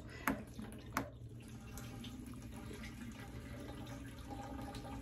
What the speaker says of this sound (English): you can hear the water draining down into the other part, into the other tub, bucket, whatever you want to call it